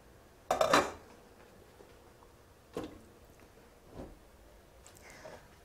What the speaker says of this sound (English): So what I'm going to do now is just put together the kumara, carrot and parsnip in the pot